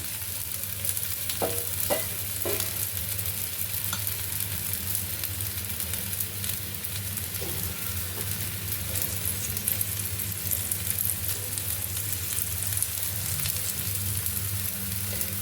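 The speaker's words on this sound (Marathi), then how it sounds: "आणि त्यावर पराठा भाजायला टाकूया" Spinach paratha cooks on a hot griddle with a steady, continuous sizzle and a few faint scraping touches, filling the scene with no talking.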